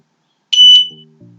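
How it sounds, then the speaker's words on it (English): Electronic beep from a homemade steady-hand pulsometer game when the probe touches its metal plate, a single loud shrill alarm-like tone followed by short low buzzing pulses, then quiet. "It beeped because I was touching the metal plate."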